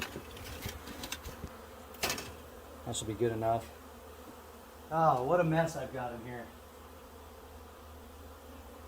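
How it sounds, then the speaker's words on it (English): A steady, dense buzz of a honey bee swarm in a garage fills the air nearby while a person speaks briefly over it. "dumping bees on top of the box over there"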